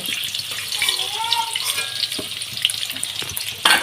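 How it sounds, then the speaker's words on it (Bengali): Marinated chicken pieces frying in a pan for a Bengali egg-chicken biryani, giving a steady, fairly loud hiss and sizzle that runs the whole time, with a sharper burst of crackle right at the end and no talking. "এই ম্যারিনেট করা চিকেনগুলো আমি একটু ভেজে নেব"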